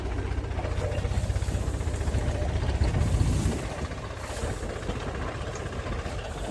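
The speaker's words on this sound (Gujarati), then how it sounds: "અને ટ્રેક્ટર હાલે છે ધીરે ધીરે" A tractor creeps slowly through a farm field, its engine a steady low rumble with a rattling mechanical clatter, loud and close at first, then easing slightly as it moves on.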